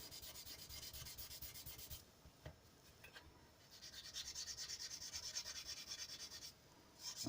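Abrasive paper rubs back and forth across a metal part in quiet, rhythmic sanding strokes, pausing briefly a couple of times before resuming.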